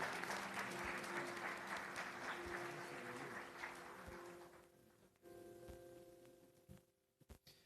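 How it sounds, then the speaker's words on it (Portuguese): A church congregation applauds the Lord during a service. The clapping is dense and sustained, then fades after about four seconds, leaving quieter room sounds with a few knocks and a faint tone. "Aplauda ao Senhor."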